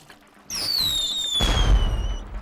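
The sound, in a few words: firecrackers bursting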